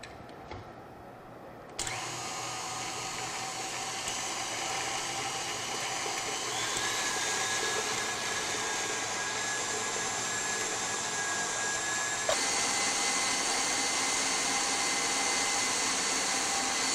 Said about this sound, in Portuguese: primeiramente vamos bater os ovos com o açúcar